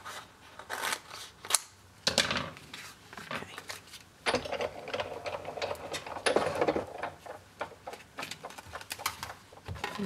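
Scissors cutting printmaking foam up close, giving irregular crisp snips and rustling handling noises scattered through the stretch, with no speech.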